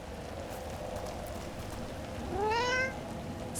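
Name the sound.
cat meowing in video game Dragon Age: The Veilguard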